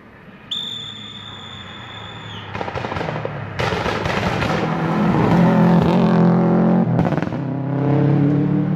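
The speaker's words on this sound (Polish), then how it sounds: "widać, że jednak tutaj troszkę przeciągnął ten zakręt, no i musiało się skończyć na tym ostrym hamowaniu" A rally car on an amateur rally stage overshoots a corner and brakes hard, engine roaring and popping loudly up close with crackling bursts and surging revs after the stop.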